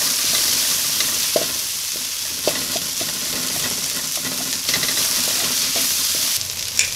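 Paneer and curry leaves fry in a pan with a loud, continuous close sizzle, punctuated by occasional spatula taps and stirring scrapes, and nobody talking.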